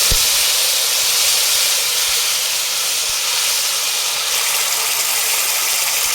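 Ginger, tomato and green chilli paste hitting hot oil, a loud, continuous hissing sizzle close by with no talking.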